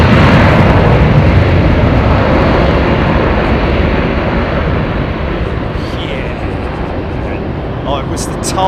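A Thai Airways Boeing 777 departs Heathrow in the evening, its jet engines a loud, broad, continuous roar that eases slightly as the aircraft pulls away.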